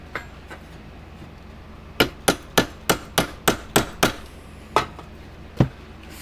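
A bent part of a 1987 Parmak Super Energizer SE-1 electric fence energizer is struck with a hammer to flatten it: about ten sharp, loud metallic blows in a quick, slightly uneven rhythm, then two spaced final hits, with no talking.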